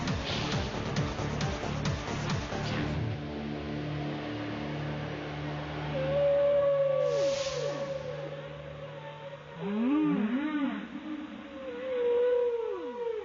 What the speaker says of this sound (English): That, my darlings, is the song of the whale.